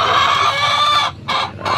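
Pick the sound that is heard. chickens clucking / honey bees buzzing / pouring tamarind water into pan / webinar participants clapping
chickens clucking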